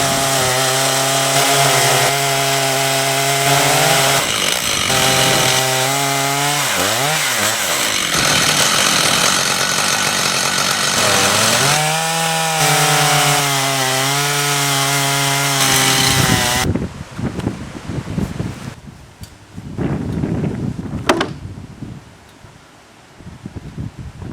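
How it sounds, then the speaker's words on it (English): A chainsaw mill cutting planks from a log, the engine droning loudly and steadily with shifts in pitch as the cut goes on, then dropping off abruptly, followed by clattering wood and handling noises. "But you're fine with a chainsaw mill."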